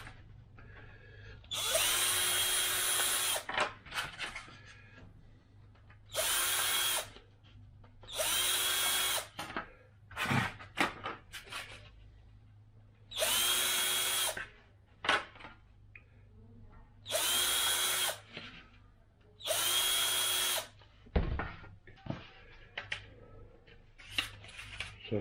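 A power drill bores small 3mm holes in a BD-5 aircraft fuselage part in about seven loud, close bursts of a few seconds each. Quieter clicks and handling noises fill the pauses between them.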